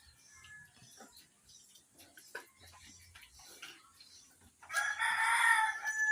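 A rooster crows loudly near the end after a stretch of faint, scattered clucking from hens in a rural yard, with no talk over it.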